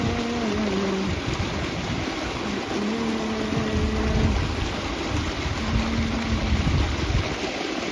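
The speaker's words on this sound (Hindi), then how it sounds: "तो आ मारा खेतरमां चाल्यो छे, आ पाणी चालू छे तमाकुनी अंदर" Irrigation water running steadily through a tobacco field, a continuous broadband wash heard throughout with faint low tonal hum in places.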